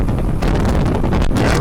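Cold wind blowing outdoors across open farmland, buffeting the microphone in a loud, continuous low rumble that never lets up.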